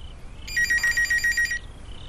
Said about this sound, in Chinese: 有日子没来电话了，你说这电话要丹丹或者是……